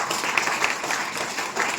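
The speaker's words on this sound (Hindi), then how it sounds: "जबरदस्त ताली होनी चाहिए साथियों।" An audience at a business-plan seminar claps, a short, dense burst of applause that stays even and fairly loud from start to finish.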